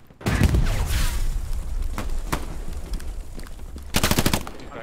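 Machine gun fire in the video game Hell Let Loose: sharp rapid bursts, with a loud opening volley, scattered single shots, and a dense final burst over ambient battle noise.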